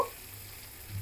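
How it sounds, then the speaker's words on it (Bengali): Rice grains and fried potatoes frying together in a pan with green chilli, giving a steady, even sizzle close by that holds for about a second with no talking. "এবার ভালো করে মিশিয়ে দিতে হবে এবং চালটাও ভালো করে ভাজতে হবে"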